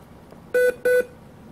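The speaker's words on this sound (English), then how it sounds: "Beep, beep." Two short electronic beeps from a Compaq Armada E500 laptop computer, clean and fairly loud, evenly spaced with a brief gap between them, against a quiet room background.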